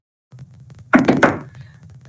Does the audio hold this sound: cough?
no